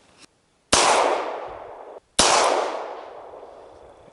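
A 9mm pistol fired while sighting in: two sharp, loud reports about a second and a half apart, each followed by a long ringing decay that fades slowly.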